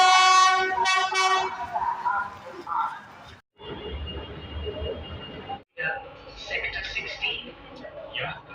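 A train at a railway station, with a horn toot and station noise including a low rumble of the train, overlaid by people talking nearby.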